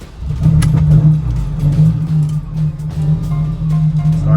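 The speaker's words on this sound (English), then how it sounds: "Here's our cold start." The engine of a 1981 Ferrari 308 GT4 Dino catches on a cold start and settles into a steady, loud, deep idle with a low throbbing rumble and slight revs, heard up close and alone.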